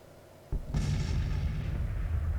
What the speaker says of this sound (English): artillery is opening up